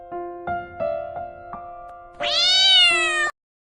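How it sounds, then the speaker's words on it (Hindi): A house cat meows repeatedly: a string of short, clipped mews followed by one long, rising, drawn-out meow, close and clear with no voices. "चुप रहना बिल्ली, बिल्कुल चुप।"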